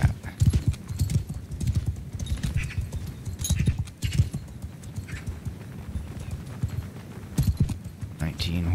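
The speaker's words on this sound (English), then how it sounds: "Horses advancing." Horses gallop in a Mount & Blade II Bannerlord battle, hooves pounding in a rapid, continuous clatter with occasional neighs, under a voice.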